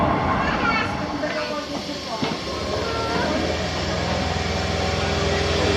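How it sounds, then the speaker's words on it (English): A train in London rumbles and hisses along the rails, a loud continuous roar with squealing tones and a brief clank partway through. "Trains."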